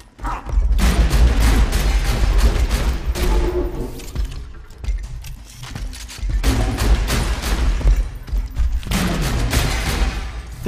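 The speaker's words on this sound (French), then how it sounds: "une balle ricoche comme pas possible de tout" Rapid gunfire in the shooter game Borderlands 2, with dense bursts of shots and ricocheting bullets in two long loud stretches separated by a brief lull, plus mechanical clanks.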